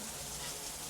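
Hot water runs from a tap in a hotel bathroom in Venice, a steady faint rushing gush heard alone at low level.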